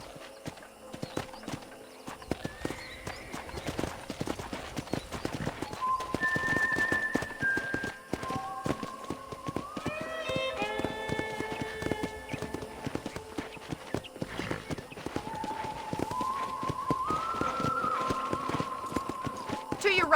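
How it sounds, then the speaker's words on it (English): Steady clip-clop of horse hooves at a walking pace in the video game Red Dead Redemption, with occasional whinnies and people talking over it throughout. "let's see if you can still ride a horse"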